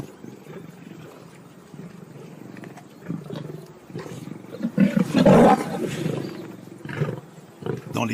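A young white lioness gives a loud, close roar in the middle, rising from softer rumbles and grunts and followed by a few shorter growls.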